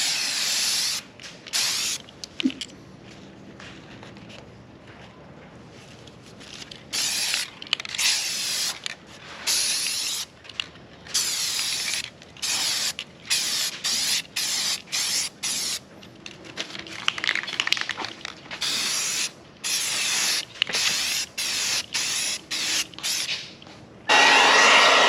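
Spray paint hisses in repeated short and long bursts as another coat goes onto old wheels, with brief pauses and a faint rattle between passes, loud and close throughout.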